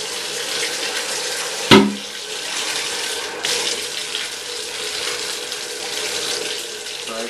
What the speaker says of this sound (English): So I just rinse all this out. Fill this up.